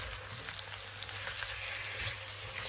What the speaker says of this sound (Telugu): ఇప్పుడు మనం ముందుగా ఆల్రెడీ కడిగి పెట్టుకున్న చికెన్ కేజీ ఇది